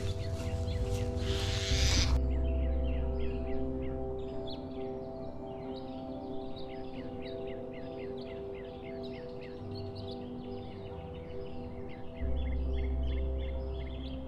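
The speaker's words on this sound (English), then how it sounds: "You can hear the mockingbirds right now too." Mockingbirds sing in a backyard, a steady stream of varied repeated chirps and phrases at moderate distance over a low constant hum, with a brief loud noise burst at the start.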